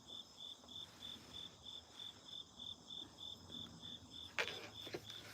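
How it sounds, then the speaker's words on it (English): Crickets chirp outdoors in a steady, evenly spaced pulsing rhythm, faint and constant, with a brief rustling knock near the end. "Just crickets, literally."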